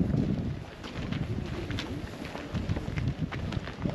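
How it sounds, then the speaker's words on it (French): Steady wind buffeting the microphone on a coastal road near Cap Nègre, a broad low rumble that gusts and roars continuously with no voices. "oui, il y a du vent."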